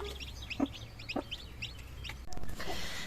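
A speckled (cuckoo-coloured) hen clucks inside a cage within a poultry pen, giving several close, clear clucks in a quick rhythm, followed by a brief rustle.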